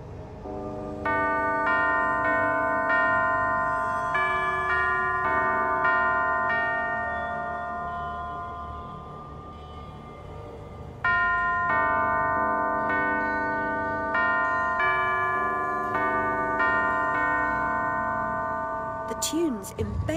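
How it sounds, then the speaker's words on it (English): In the Alice: Madness Returns video game, a sequence of bell tones rings out to open a sealed door, with clear sustained chimes in two phrases and a brief sparkle at the end. "Only by playing the correct sequence of bells can it be opened."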